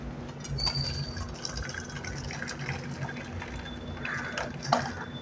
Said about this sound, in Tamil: இப்போ பருப்பு தண்ணி இருந்தால் இதில் வடிச்சுக்கலாம்